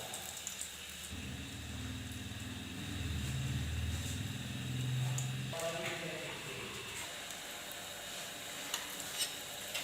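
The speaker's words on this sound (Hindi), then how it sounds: "हम इन टोस्ट को मीडियम टू लो फ्लेम पे फ्राई कर रहे हैं।" Spiced potato bread toast frying in a pan over a medium-low flame, a steady soft sizzle with a low background hum, fairly close, with occasional light stirring or scraping noises.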